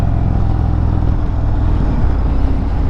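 A 2021 Indian Springfield Dark Horse motorcycle engine pulls steadily at close range, a continuous low rumble with a faint whir and no voices over it.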